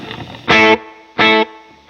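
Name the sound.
guitar delay effect with more blend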